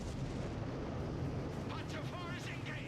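Artillery in Company of Heroes 3 rumbling as a dense, continuous barrage of low booms, with a commentator talking over it throughout.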